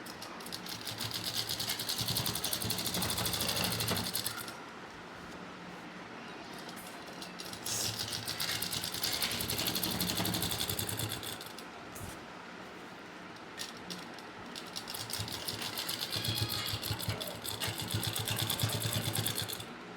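A sewing machine stitches a pocket underwear garment in long, steady runs, pausing briefly around the five- and twelve-second marks before resuming its close, continuous whirring drone.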